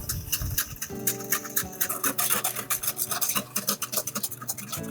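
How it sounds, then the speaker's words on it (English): Eggs whisked straight into muffin batter in a bowl, a rapid scraping, rasping rhythm of whisk strokes with some clinks, steady and close throughout. "Whisk those in."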